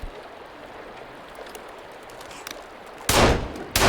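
Virginia's gun fires in the video game Sons of the Forest: after quiet ambient hiss, two loud, close shots crack out in quick succession near the end.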